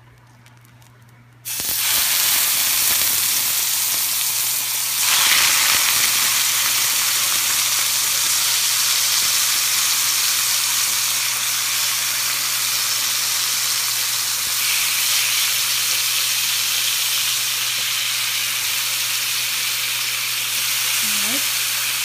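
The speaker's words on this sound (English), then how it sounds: "We're gonna take our steak and we're gonna sear this." Steak hitting olive oil in a hot pan bursts into a loud, continuous close-up sizzle that holds steady for about twenty seconds, with no talking.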